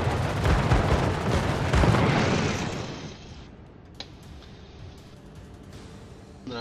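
Heavy warship gun salvos in World of Warships, from a Pensacola cruiser, thudding in a rapid rolling barrage for about three seconds before fading to quieter ambience with a couple of distant pops.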